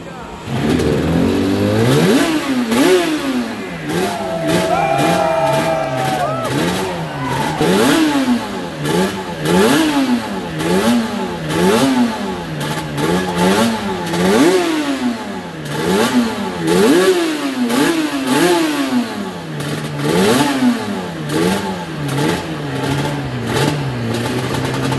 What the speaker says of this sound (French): Et les plus jeunes, ils n'ont jamais entendu le bruit d'une moto comme ça.